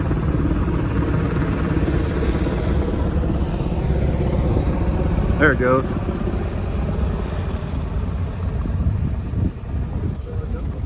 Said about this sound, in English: Got a helicopter up overhead.